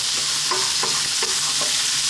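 Bell peppers sizzle and crackle in a pan on high heat, with a few rhythmic scraping stirs of a utensil over the steady frying hiss.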